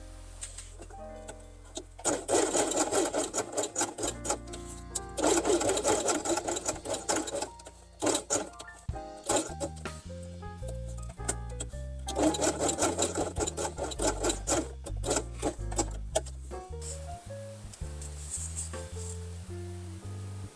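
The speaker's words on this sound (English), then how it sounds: "sew only from here to this place with orange thread" A sewing machine stitches fabric with orange thread, running in several loud rapid bursts separated by short pauses, with no talking over it.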